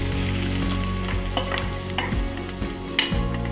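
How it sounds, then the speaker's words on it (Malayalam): Chopped ginger frying in hot oil for a ginger curry, a steady close sizzle running throughout with scraping stirs and utensil knocks at regular intervals. "എണ്ണ ചൂടായി കഴിയുമ്പോൾ ആദ്യം നമ്മൾ അരിഞ്ഞു വെച്ചിരിക്കുന്ന ഇഞ്ചി ഇട്ട് കൊടുക്കുക."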